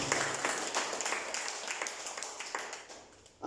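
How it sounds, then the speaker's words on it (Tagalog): Church congregation clapping at a worship service, a dense, steady patter of many hands that tapers slightly toward the end. It is fairly faint overall. "Palakpak tayo sa Panginoon."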